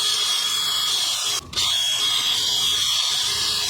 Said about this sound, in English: I'm gonna use this one here, this wire wheel on a drill.